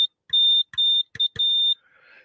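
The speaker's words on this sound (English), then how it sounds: "When you key it, it lights up the light and it makes a beep." A small code practice oscillator kit, keyed by hand, sounds a close, clear tone in four beeps of uneven length, short and long like Morse code.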